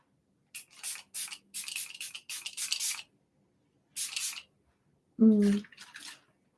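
A makeup setting spray with aloe and vitamin E hisses out in a series of short, close spritzes separated by pauses, with a brief vocal sound near the end.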